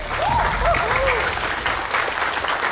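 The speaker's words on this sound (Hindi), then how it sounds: "एक बार जोरदार तालियां हो जाएगा।" Loud audience applause at a fashion show competition, dense continuous clapping throughout with a whooping cheer or whistle rising over it near the start.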